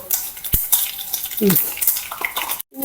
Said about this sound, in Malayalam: കടു ഇട്ട് കൊടുക്കാം എണ്ണ ചൂടായി കണ്ടോ